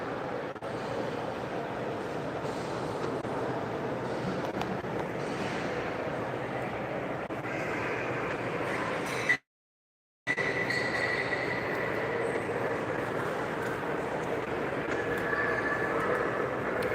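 Streamlined Zephyr train running, a continuous rumbling roar of wheels and rail noise with a steady whooshing body, briefly cut out to silence midway before resuming at the same level.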